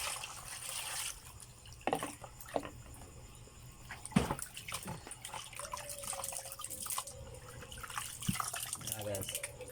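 Meat being washed under running water in an outdoor kitchen on a farm, with splashing, drips and handling knocks, and a voice talking at times.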